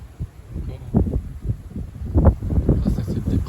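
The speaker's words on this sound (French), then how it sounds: "Le vent de sud qui reprend du service. Voilà, c'est très venteux." A strong south wind gusts around the microphone during an evening storm, producing irregular low buffeting rumbles and bursts of wind noise that swell and fade across the whole stretch.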